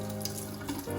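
Tap water runs steadily into a sink as a filter is rinsed beneath the stream, a close, continuous wash with a low hum in the background and no talking.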